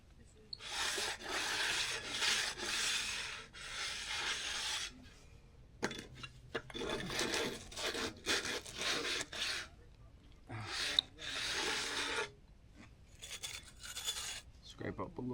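Trowel scraping across fresh soft concrete to fill and finish the corners, repeated rasping strokes in bursts separated by short pauses, fairly quiet and close.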